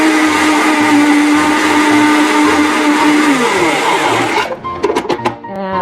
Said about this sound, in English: we're going to take that and blend it up in our blender here.